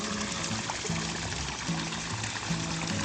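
Spring water at Buckdell spring in Ohio pours and trickles continuously nearby, a close, steady splashing flow heard alone without voices.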